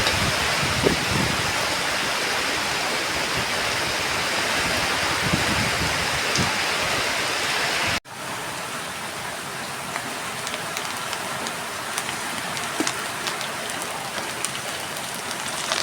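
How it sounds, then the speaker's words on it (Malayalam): Heavy rain with strong wind outdoors makes a dense, steady roar of falling water that cuts briefly at the midpoint, then resumes slightly softer with scattered drips and patters and no voices. "ശക്തമായ കാറ്റും മഴയും."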